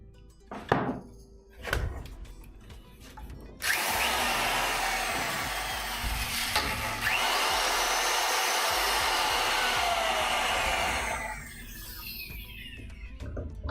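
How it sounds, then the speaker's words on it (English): A Dremel rotary tool cleaning up edges in a shed, running loud and steady for about eight seconds after a few knocks and thumps, then winding down into quieter workshop noise. "I'm going to be doing some stuff with the Dremel to kind of clean up the edges and stuff"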